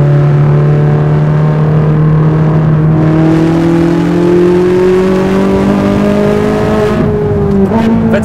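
A Ferrari 458 Italia V8 accelerates hard, its engine note rising steadily through the rev range, loud and close, with a brief shift-like break near the end and no talking.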